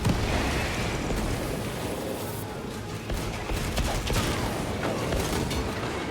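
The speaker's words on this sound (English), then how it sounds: "Deploy frag grenade" A frag grenade explosion and continuous combat in Warhammer 40,000: Space Marines 2 fill the clip with dense, loud rumbling noise, a short dip around three seconds, then renewed booming and crackle.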